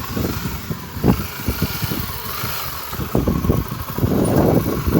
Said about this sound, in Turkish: Motorcu gidiyor.